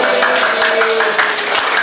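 A classroom of students applauds a group, a brisk, dense patter of claps that holds steady, with a faint tonal hum running underneath.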